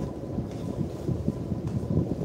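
Blustery wind buffeting an outdoor livestream microphone at a bridge, a continuous low rumbling roar that swells and dips, with no voices.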